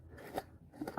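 Scissors snip through a matted clump of poodle fur while grooming, two quick crunchy cuts close by and faint, with no talking.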